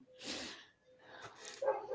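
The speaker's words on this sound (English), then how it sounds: "But I hear doggies." A dog barks a few times at home, fairly faint and somewhat distant, mixed with breathy snorting noises and a brief murmur of voices.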